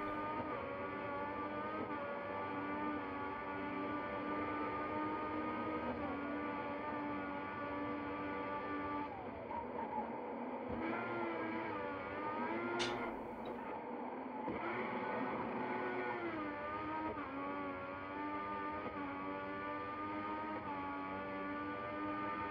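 Formula 1 race car engine at full throttle around Suzuka in the F1 2014 video game, a steady high-pitched harmonic whine holding for the whole stretch with brief pitch dips at gear changes.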